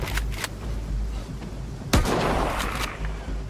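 Gunfire in an open-world survival video game: a few scattered distant shots, then one loud, sharp blast followed by a rumbling, echoing tail over a low background drone.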